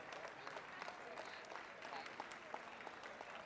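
Faint, distant applause from the audience at a military powerlifting meet at the Department of Defense Warrior Games, a steady patter of clapping after a failed lift that holds evenly throughout.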